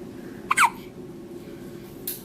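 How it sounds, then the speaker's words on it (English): A newborn baby girl gives a single soft hiccup, a brief close squeak with a quick catch of breath, over quiet room noise and no talk. "Hiccups."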